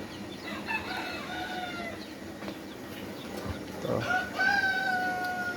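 Desi native chickens on a farm cluck repeatedly and one crows loudly near the end, close by over a steady background hum, with no talking.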